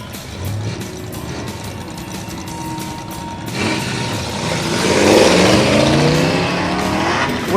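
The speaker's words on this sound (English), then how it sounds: "Wicked bogs off the line for both cars." Drag cars launch at the Orange Dragstrip reunion, both bogging off the line: a quieter rumble gives way to a loud, rising engine roar with tire noise that swells and holds near.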